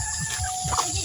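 Chickens in a backyard breeding pen give a brief burst of soft clucking close by, over a steady hum of background noise, with no talking.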